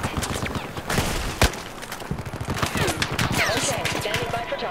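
Rapid bursts of gunfire fire at the player in the Battlefield 4 video game. The shots come as loud, dense volleys and a sharp single crack, with a voice speaking now and then under the shooting.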